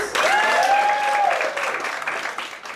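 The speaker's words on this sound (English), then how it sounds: "How many people have seen The Irishman by a round of applause?" Stand-up comedy show audience breaks into a loud round of applause, dense clapping sustained throughout with a voice or whoop rising briefly above it before the clapping slowly tapers.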